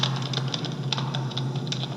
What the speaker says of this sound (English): so you have a person typing